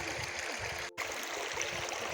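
Clear mountain stream water flowing in western Ukraine in August, a soft steady burble with a brief cut in the middle, no voices over it.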